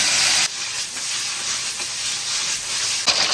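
Tofu dropped into hot oil in a wok gives a loud burst of sizzle, then settles into a steady bright hiss with a faint stir near the end.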